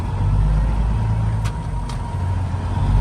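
Truck engine in a hopper-bottom semi rumbling steadily at close range, a low continuous drone with a couple of brief clicks partway through, no clear shutoff or restart.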